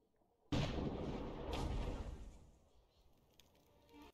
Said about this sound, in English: Man the mortars!